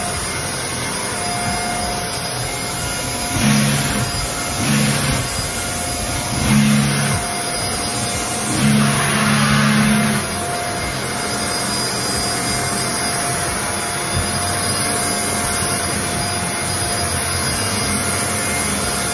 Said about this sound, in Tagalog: papakita ko sa inyo yung pag nag-vacuum ako, ganyan